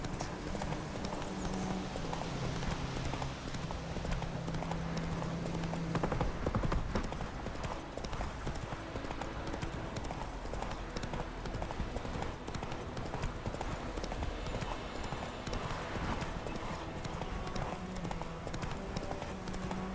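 A horse gallops in the video game The Witcher 3, with steady, continuous hoofbeats at a moderate level over a constant game ambience for the whole stretch.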